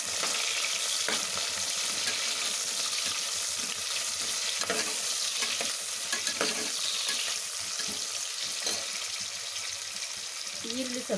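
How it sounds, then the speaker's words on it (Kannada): Two large cut onions frying in oil in a pan for a rice kushka, a steady loud sizzle with occasional stirring scrapes and clinks, with no talking. "ಈರುಳ್ಳಿ ಸ್ವಲ್ಪ ಚೆನ್ನಾಗಿ ಫ್ರೈ ಆಗೋವರೆಗೂ ಅದನ್ನು ಹಾಗೆ ಫ್ರೈ ಮಾಡ್ಕೊಳ್ಳೋಣ."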